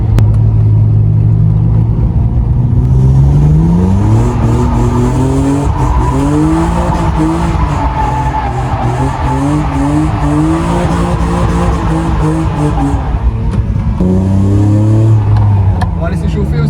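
A BMW E36 drift car at a drift event revs hard and climbs through gears in repeated rising and falling engine sweeps, loud and close with tire squeal. People talk over the engine.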